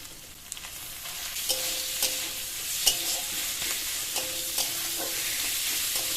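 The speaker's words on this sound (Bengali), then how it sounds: "এবার এর মধ্যে চিকেনটা দিয়ে দেবো।" Chicken frying in a spiced masala sizzles steadily while a utensil stirs and scrapes the pan with occasional sharp clinks, close and moderately quiet, with no talking.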